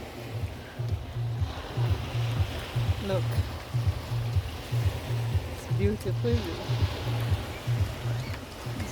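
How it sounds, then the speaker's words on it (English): Ocean waves wash on a warm shore in rhythmic surges under a person speaking nearby. "I think I'm gonna sit here and show you the waves."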